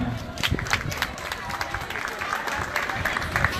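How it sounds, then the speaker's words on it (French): Audience applause at the African Genius Festival for the Kids Kingdom group, a steady crowd clapping across the whole stretch with busy chatter and voices mixed in. "Vos, applaudissements à Kids Kingdom."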